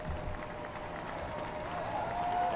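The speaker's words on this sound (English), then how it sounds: "A foul whistled and a very good round of applause" Crowd applause and cheering at an NWSL soccer match between Washington Spirit and Orlando Pride, a steady wash of stadium noise with a faint whistle near the end.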